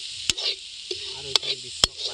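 Masala brinjal fries in a pan with a quiet, steady hiss, punctuated by three sharp stirring clicks against the pan.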